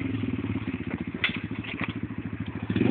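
A quad bike engine idles and revs with a steady pulsing chug and a sharp rise partway through, close and fairly loud with no talk over it.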